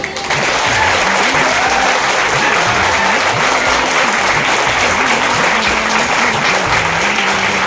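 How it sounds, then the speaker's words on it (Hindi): Loud, continuous applause from a large crowd, dense clapping sustained throughout with no pauses. "जोरदार ताली हम लोग पहले इधर से बजाएंगे"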